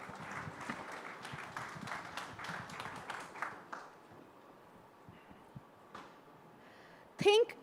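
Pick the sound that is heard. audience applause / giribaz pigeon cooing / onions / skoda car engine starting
audience applause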